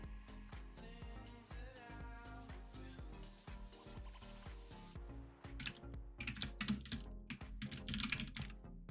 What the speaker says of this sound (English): Just slammed my keyboard.